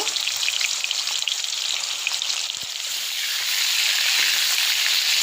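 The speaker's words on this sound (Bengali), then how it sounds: "সাদা তেল দিয়ে দিলাম। চিকেনটা ভেজে নেব, ভেজে রান্না করব।" Chicken frying in white oil, a dense close crackling sizzle like heavy rain that holds steady and swells a little louder in the second half, alone without voices.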